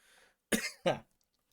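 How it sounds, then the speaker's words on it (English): Two quick, sharp coughs close to the mic, a short burst followed by a second, then quiet. "gonna cut that cough out."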